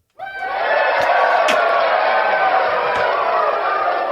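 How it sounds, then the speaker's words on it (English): Stadium crowd at a baseball game roaring and cheering loudly and steadily, a dense sustained wall of voices with a few sharp shouts and whistles poking through. "The crowd goes wild for Andrew Knizner"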